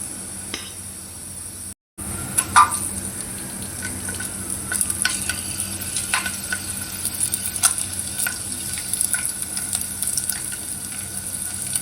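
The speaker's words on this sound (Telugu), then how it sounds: "ఆయిల్ వేడైంది. ఇప్పుడు పోపు దినుసులు వేసుకుంటాను." Tempering spices dropped into two tablespoons of hot oil for a village-style tomato dal give a steady close sizzle with scattered pops and crackles, no voices.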